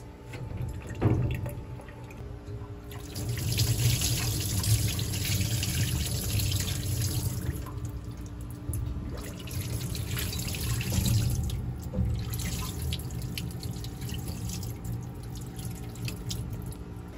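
Water runs steadily through a rusty 1995 Honda Shadow 600 VLX fuel tank during flushing, a continuous splashing pour that surges and eases for the whole stretch, close and fairly loud with no talking.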